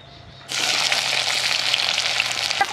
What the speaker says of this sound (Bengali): আমি কড়াতে সর্ষের তেল দিয়ে দিচ্ছি। পুরো রান্নাটাই করব সর্ষের তেলে।